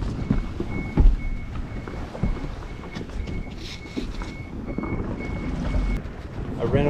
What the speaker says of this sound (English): there was a large beeping noise, which is a DSC call